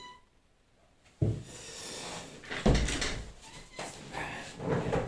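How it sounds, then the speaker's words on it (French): A door or window being opened for a cat at home: faint creaks and soft knocks of the door moving, with two sharper clunks and some shuffling handling noise, quiet and close. "Je fais le service de porte, fenêtre pour mon chat"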